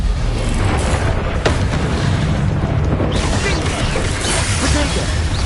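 Heavy booming blasts from a Confringo explosion spell in the Hogwarts Legacy video game, loud and continuous with crashing debris and a sharp hit near the middle.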